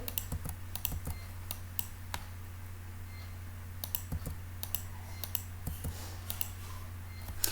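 Computer keyboard keys pressed to delete text, a steady run of close, crisp clicks in quick bursts with short pauses, over a constant low hum and with no talk.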